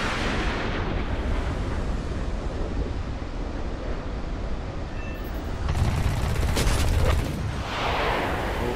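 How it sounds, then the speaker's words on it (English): Aircraft cannon fire from a JA-37C Jaktviggen jet in War Thunder plays as a dense rolling roar over loud engine rumble, with a harsher burst of rapid firing partway through. "Not getting a lot of hits with the old cannon here."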